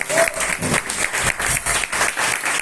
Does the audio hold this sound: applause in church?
yes